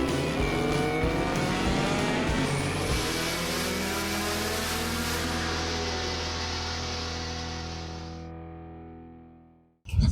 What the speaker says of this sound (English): So we are going to take the car for a drive